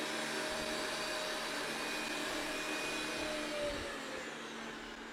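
A Dreame L10s Ultra robot vacuum cleaner runs with a steady, even suction whine and motor hum, close and constant, with no voices.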